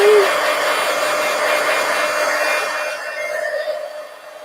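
A hair dryer blows in a steady, loud whoosh over wet paint on a collage poster, its tone shifting slightly as it moves toward the end.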